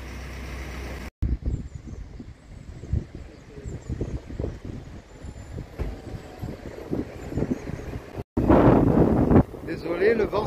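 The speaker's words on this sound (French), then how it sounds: "Désolé, le vent se lève." Strong outdoor wind buffeting the microphone in rumbling gusts on the Camino near Villafranca, loudest near the end, with faint background noise.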